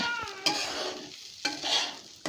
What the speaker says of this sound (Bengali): 2 থেকে 3 মিনিট কিন্তু আমরা চালটাকে এরকম ভেজে নিয়েছিলাম।